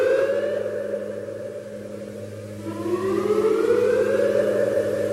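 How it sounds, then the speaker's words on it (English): Outdoor weather warning siren sounding a severe thunderstorm whoop: a loud, steady siren tone that dips and then rises again partway through, with no voices. "It's a whoop for a severe thunderstorm warning."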